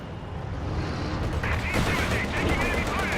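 Gunfire in Company of Heroes 2: dense, continuous bursts of weapons fire crackle and rattle over a busy battle din, loud and unbroken throughout.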